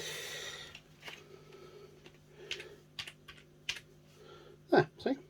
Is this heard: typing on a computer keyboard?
yes